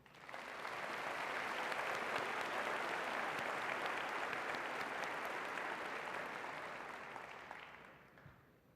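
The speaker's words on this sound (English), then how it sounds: "Please now join me in acknowledging them with your applause." Steady, even applause from a large audience at a 2012 spring university commencement, swelling quickly and holding at moderate volume for most of the stretch before tapering off near the end.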